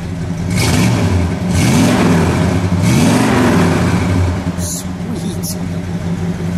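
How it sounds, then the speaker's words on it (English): A 1957 Chrysler 300C with a 392 V8 revs up loudly and close by, two rising and falling throttle blips over a steady rumbling idle, with voices briefly heard. "Go ahead, let's give it a rev."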